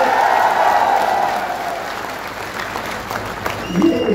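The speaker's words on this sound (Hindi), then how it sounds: "मैं तो चाहता हूं आप सब लोग इस शाहपुरा के नौजवान विधायक के लिए जोरदार तालियां बजाओ।" A crowd at an outdoor political rally breaks into loud, dense applause, steady clapping that fills the space and holds at full strength throughout with a few cheers mixed in.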